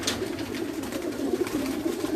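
Breeder pigeons in a loft give steady, repeated low coos. They sound close and carry on without talking over them.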